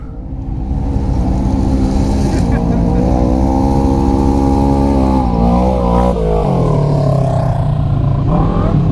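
A Polaris RZR 800 side-by-side approaching on an off-road trail, its engine a loud, close, rising drone with shifting revs throughout, people talking over it.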